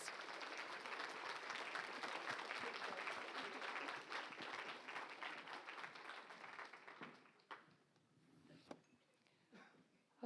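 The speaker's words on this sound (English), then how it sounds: "Can we have a round of applause, yes, for all our lovely speakers?" Audience applause for a group of speakers at an academic conference session, a dense steady wash of clapping that holds for about seven seconds before thinning into scattered claps and fading out.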